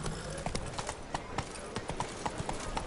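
Roach, a horse in The Witcher 3, walks with a steady clip-clop of hooves, the evenly spaced strikes fairly close and moderately quiet over a faint background.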